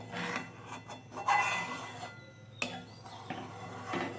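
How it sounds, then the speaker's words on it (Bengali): A utensil scrapes the skin of boiling milk from the edge of a pan and stirs it: repeated rasping, rubbing strokes at close range, some sharper scrapes among them, with no talking. "সেই সরগুলো এই ধার থেকে এরমভাবে নিয়ে মাঝখানে নিয়ে এসে এটাকে ঘেঁটে দিতে হবে"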